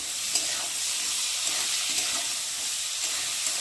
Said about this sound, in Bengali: আর পেঁয়াজের সাথে এখন আলুগুলোকে দিয়ে ভালো করে ভেজে নেব